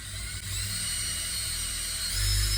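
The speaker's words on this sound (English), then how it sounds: "I want to use the drill bit to get my screw exactly where I need it." Drill bit boring a pilot hole for a hardware screw, with a steady, high-pitched power-tool whine up close that runs unbroken and swells slightly near the end, no voices.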